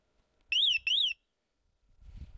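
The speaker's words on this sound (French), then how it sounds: "L'alarme, elle marche quand même." An alarm on a repaired Chinese-made device sounds two short, loud warbling electronic tones back to back. Then a low rumble of handling noise follows.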